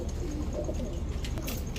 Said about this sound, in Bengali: dark স্টোকেট Hungarian high flyer Budapest একটা মাদি